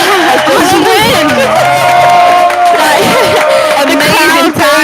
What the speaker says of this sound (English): The crowd goes wild for Amy Cheatham.